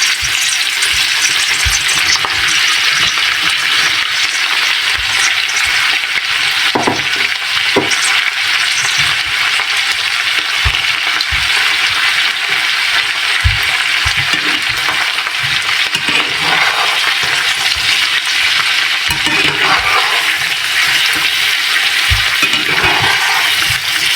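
Chopped okra and a diced medium onion fry in a pan with a steady, loud sizzle, punctuated by repeated scraping and clinking as a spoon stirs the vegetables; no talking.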